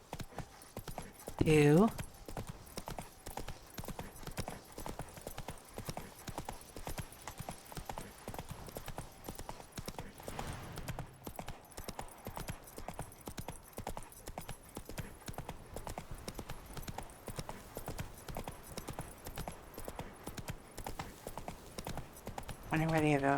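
Horse hooves clip-clop at a steady, continuous rhythm during a ride in The Witcher 3 video game. Someone talks over the hoofbeats now and then.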